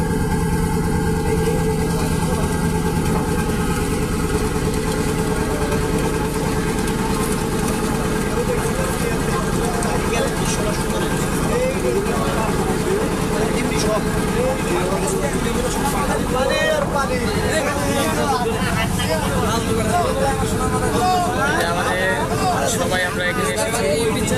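Trawler boat engine running on a lake in the Rangamati hills of Chittagong, a steady mid-pitched idling drone filling the whole stretch, with people talking over it and some background babble.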